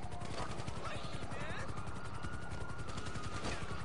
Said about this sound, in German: der Heli soll verschwinden